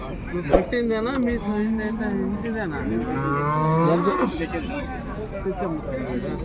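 A Jersey cow moos several times in long, drawn-out calls nearby, with people chatting in the background of a busy outdoor cattle market in Punganur.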